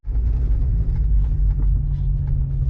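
A BMW's engine rumbles low and steady from inside the car while driving, a constant deep drone with no voices.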